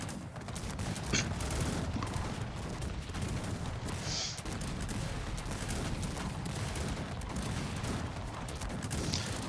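Dense, continuous crackle of massed gunfire like volley after volley in the strategy game Cossacks 3, steady and somewhat distant, with faint hoof-like clatter mixed in.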